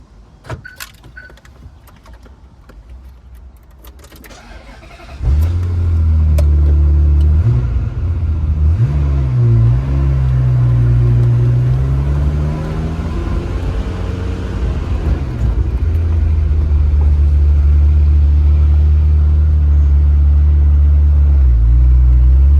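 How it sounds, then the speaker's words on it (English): A few faint clicks and rattles come first, then a 1997 Ferrari 355 Spider engine cranks and catches on a warm start, briefly revs, and settles into a loud, steady idle close by. "This will be our warm start and mixed drive video of our 1997 Blu Chiaro Metallic 355 Spider."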